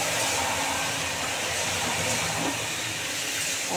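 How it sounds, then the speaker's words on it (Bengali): Steamed cauliflower frying in an open pan for a cauliflower and fish dish, a dense, steady, loud hiss and sizzle of hot oil running without a break, with no voice. "ফুলকপিগুলো লাল করে ভালো করে ভেজে নেব"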